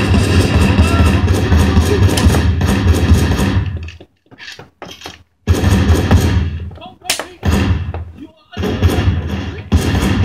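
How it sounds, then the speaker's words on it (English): Loud automatic machine gun fire in a video game, sustained bursts that cut off abruptly into brief gaps and restart, mixed with booming impacts and a voice talking over the action. "My machine gun sucks ass."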